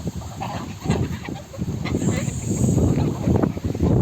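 Geese honk and chickens cluck in a noisy mix of farmyard calls, close by, with a breezy background, including a male goose.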